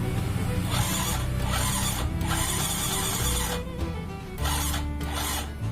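A Yamaha Mio Soul GT scooter with a stiff, heavy kick start is cranked on its electric starter, a close, loud grinding whir that runs in several bursts with short breaks and never catches.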